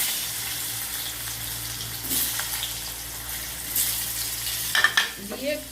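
Potato pieces crackle in a pan of oil tempered with cumin and nigella seeds, a steady sizzle broken by a few louder scraping stirs and clatters near the end, with no voices.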